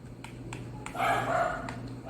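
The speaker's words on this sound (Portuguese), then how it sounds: "esses cachorros estão muito chatos" Several dogs bark in short bursts, then one gives a longer, louder bark, all moderately distant and somewhat faint against a steady background hum.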